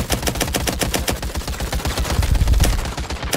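Rapid automatic gunfire in a tactical shooter video game, a steady stream of sharp, evenly spaced shots rattling close and loud for a few seconds without a break.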